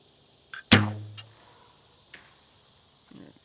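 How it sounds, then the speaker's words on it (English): A steady high cicada buzz runs throughout, with a few sharp knocks and a brief ringing clatter near the start, during the assembly and shooting of a Hoyt Formula XD Olympic recurve bow. "I can't do much about the cicada going crazy back here"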